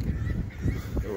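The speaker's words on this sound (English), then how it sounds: "The gulls are going crazy," Loud, raucous calls of gulls around a superstore, a rapid overlapping chorus of honking cries in bursts close by, with no talk.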